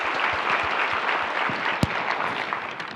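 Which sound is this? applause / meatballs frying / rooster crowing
applause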